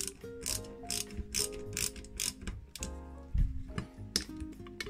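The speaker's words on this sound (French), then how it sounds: "on va essayer de jouer du cliquet quand même" A ratchet driving screws into the right door hinge of a die-cast KITT model car, giving bursts of rapid mechanical clicking with short pauses, close and clear.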